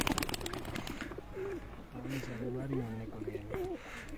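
Pigeons coo close by on a rooftop in Abbottabad in soft, rolling, repeated calls, with a burst of clattering noise at the start and a voice speaking briefly.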